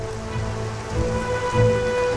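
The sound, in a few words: heavy rain falling on tundra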